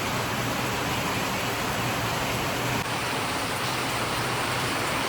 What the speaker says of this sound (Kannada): ಆಗಲೇ ಮಳೆ ನೋಡ್ರಿ